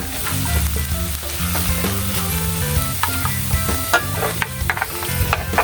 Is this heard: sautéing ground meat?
yes